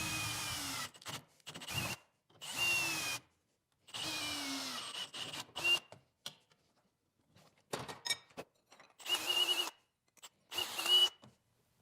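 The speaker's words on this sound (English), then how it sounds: "clamp this together, drill 2 holes" Several short bursts of a power drill whirring as it drills holes in metal on a bike, starting and stopping repeatedly with brief pauses between, close by.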